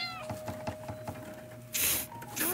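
In the video game Dordogne, a cat gives a series of meows, a couple of drawn-out cries followed by rustling and brighter noisy bursts, fairly close against a soft ambient hum, with no talk.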